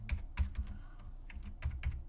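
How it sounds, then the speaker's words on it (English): Fingers tap out a password on a computer keyboard in quick uneven bursts, a few close, crisp key clicks with short pauses between them, nobody talking. "So just type your password in."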